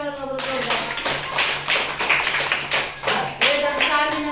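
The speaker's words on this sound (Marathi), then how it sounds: "सगळ्यांनी टाळ्या वाजवा." Children in a classroom clap together in uneven, rhythmic bursts, close and fairly loud, with short pauses between rounds and a voice speaking intermittently over it.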